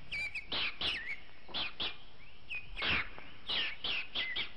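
A baby bird chirps repeatedly outdoors, a series of thin, high, clear tweets spaced in irregular bursts, close and fairly distinct over a quiet background.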